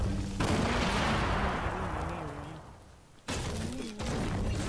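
Fortnite 50v50 battle sounds: heavy booming explosions roll out and fade, followed by another sharp blast with rumbling gunfire, loud and close.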